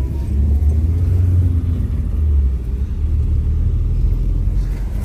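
A car travels along a rural road in Yakutia, its low engine rumble and tyre noise steady and close from inside, with no talking.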